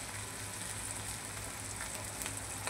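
Onion-coconut paste sizzling as it sautés in oil for chana masala, a steady faint crackle and hiss throughout with scattered small pops and no talking.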